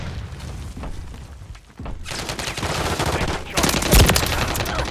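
Bursts of automatic gunfire and booming shots from a Call of Duty multiplayer match come in dense, loud volleys that build toward a heavy impact near the end.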